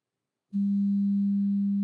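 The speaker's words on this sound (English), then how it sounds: "There's a sine wave. It's kind of the hello world of audio." A steady, pure electronic sine wave tone generated with web audio starts abruptly after a brief silence and holds at constant pitch and loudness.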